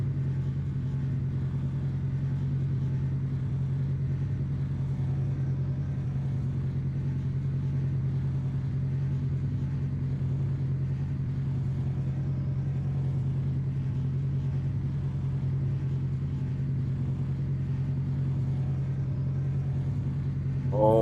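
Racing car engines in the Targa Florio video game, a continuous low engine drone and rumble holding steady throughout, with no speech over it.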